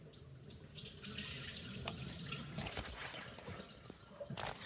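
Water splashes and trickles steadily for a few seconds as it is drained from a pot of boiled fatback, close by and fairly loud, with no talking.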